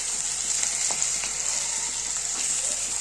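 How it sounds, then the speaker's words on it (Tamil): Mutton fries in hot oil with onion and ginger, a steady, close sizzle crackling continuously with small pops and stirring scrapes, no voices. "இப்போ நம்ம மட்டனை போட்டுக்கலாம்."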